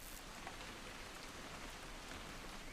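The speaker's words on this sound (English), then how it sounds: "It's gonna rain the whole weekend," Steady rain pours over the scene in the video game What Remains of Edith Finch, a dense even hiss of drops on surfaces that holds constant from start to finish with no voices.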